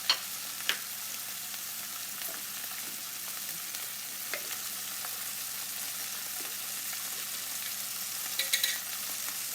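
Homemade tomato sauce sizzles steadily in a hot frying pan for eggs alla puttanesca, a constant close crackle and hiss with a few faint clinks from a utensil.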